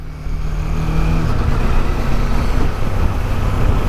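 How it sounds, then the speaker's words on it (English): A motorcycle engine roars loud and close on a busy Indian road, a rough, continuous droning rumble that holds steady for several seconds with no pauses. "What bike is that?"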